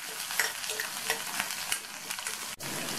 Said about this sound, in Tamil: இதை லைட்டாக வதக்கி விட்டுக்கணும்